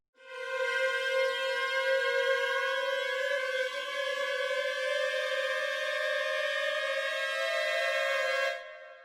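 A Kontakt cluster patch holds a dense, sustained tone of stacked harmonics that climbs slowly and smoothly in pitch, loud and steady for about eight seconds before cutting off.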